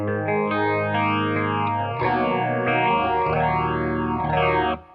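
An electric guitar plays sustained, slightly driven chords through a Boss phaser pedal, which sweeps up and down in a steady swirling whoosh.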